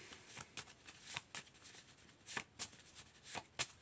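A deck of cards being shuffled in quick riffling bursts, crisp and close, with short pauses between each pass and no talking.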